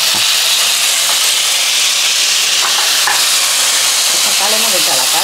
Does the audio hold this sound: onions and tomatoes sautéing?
yes